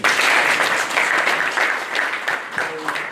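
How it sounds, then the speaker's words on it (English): An audience at a Hansard Association of Kenya annual conference applauds panelists, a loud, full burst of clapping that starts at once and tapers slightly toward the end, with some voices mixed in. "Let's clap for them, please."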